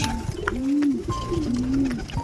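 Pigeons coo softly at close range while being fed a grain mix of wheat, chickpeas, green mung beans and milo, with several drawn-out coos rising over a light background rustle.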